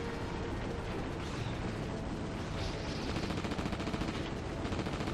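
Continuous dense gunfire in the PS2 game Reign of Fire (2002), aimed at flying dragons, forming a steady loud barrage with rumbling explosions and no pauses.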